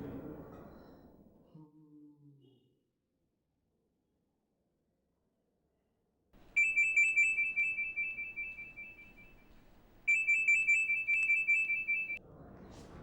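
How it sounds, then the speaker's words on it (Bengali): A phone ringtone chirps in two bursts of bright repeating electronic trills while a call is placed, following a short tonal sound and a stretch of silence, with faint voice at the start and end. "দেখি ফোনটা দে তো, আমি আব্বাস মাস্তানে ফোন করুন।"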